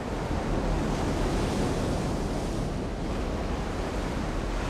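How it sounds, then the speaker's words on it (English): Choppy ocean waves breaking off Maui in Hawaii under an overcast sky, a continuous loud roar of surf with wind buffeting the microphone. "Undeterred by the choppy waves and the overcast sky, Francisco takes in the Hawaiian beauty"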